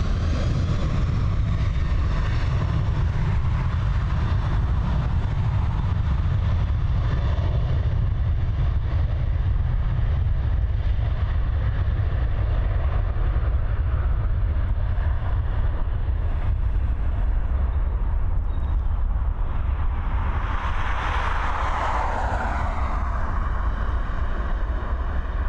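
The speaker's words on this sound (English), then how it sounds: "We've got the Aer Lingus A330 ready for our mate Aer Lingus" An Aer Lingus Airbus A330 takes off at Dublin Airport, its jet engines a loud, sustained roar with deep low rumble and a rising whine, heard alone for the whole stretch.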